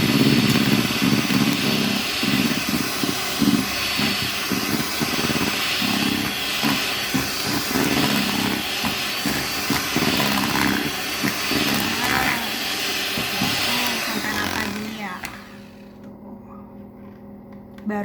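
An electric mixer on its lowest speed beats cake batter with a steady, loud whirring drone. The motor runs without a break for about fifteen seconds, then cuts off into near silence.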